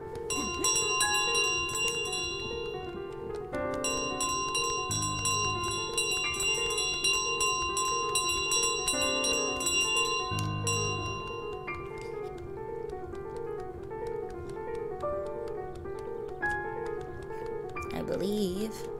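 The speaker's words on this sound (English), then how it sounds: "Now we run with the bell." A small handbell carried by the goose in Untitled Goose Game rings with bright, repeated metallic tones over a bouncy game soundtrack, while a voice talks throughout.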